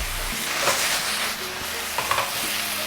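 Onions and capsicums with a little salt sizzle in avocado oil in a hot pan, a close, steady hiss broken by a few stirring scrapes, with no talking.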